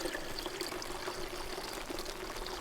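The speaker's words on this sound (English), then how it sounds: "you can hear it draining" Water drains steadily into tanks partly frozen during a polar-vortex winter on a homestead, a soft continuous trickle and pour that stays faint and unbroken throughout, with no voices.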